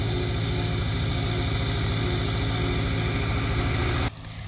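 A tractor engine idles while warming up, a steady, close, rumbling drone with a regular low throb that cuts out sharply near the end.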